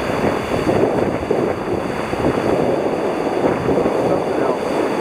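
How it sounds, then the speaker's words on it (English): Lake waves wash and crash continuously at Woodbine Beach during a blizzard while strong wind roars across the microphone, a loud, dense outdoor rumble with no clear pauses. "Those waves are just awesome."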